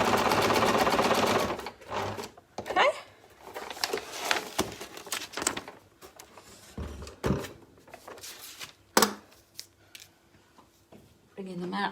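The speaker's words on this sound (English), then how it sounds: "Place your foot down, needle in. I'm just going to just double check, yep, and then stitch on the line again." A sewing machine stitches fabric for a quilt, starting with a steady, loud whir and then breaking into short, intermittent bursts of stitching mixed with scattered handling clicks.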